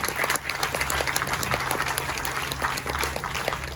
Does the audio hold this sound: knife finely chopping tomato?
no